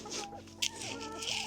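Chickens clucking near a workshop, several close birds making warbling, rising and falling clucks in quick succession over a low background hum, with one brief sharp sound partway through.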